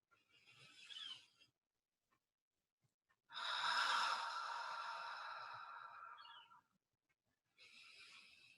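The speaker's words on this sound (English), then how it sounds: "together using the Ujjayi breath, so you can experiment with that for a little bit" Slow Ujjayi breathing during a guided relaxation exercise: a long, steady, breathy inhale or exhale of a few seconds, flanked by shorter breaths, close and quiet with silence between.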